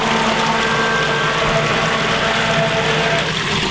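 A grinder pump for sewage and wipes runs loudly after clearing trapped air from its volute, a steady close mechanical hum with rushing water churning through it, constant and unbroken throughout.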